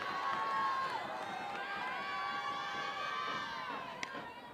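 Stadium crowd at an NCAA softball game between Ole Miss and Tennessee roars steadily with cheering and shouts, a sustained loud wash of voices with two on and two out.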